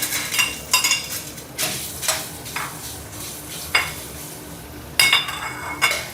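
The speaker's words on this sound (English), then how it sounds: "Once the wok is hot, add in some oil. Add the mushrooms." Mushrooms sauté in oil in a hot wok with a soft sizzle underneath. Repeated scraping and clinking stir strokes come up close at an uneven rhythm.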